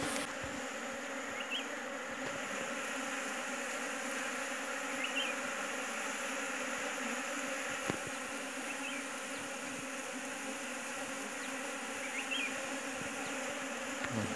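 A swarm of bees hums around a square box bee trap outdoors, a dense, continuous buzzing that stays loud and even throughout, with individual insects passing close now and then.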